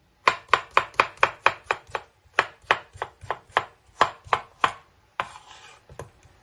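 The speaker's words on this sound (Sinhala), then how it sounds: "රෝල් සලාඩ් එක මේ කපනවා." Knife chopping roll salad lettuce on a cutting board, a fast, close series of sharp, evenly spaced cuts in two runs, ending with a softer scrape and one last chop.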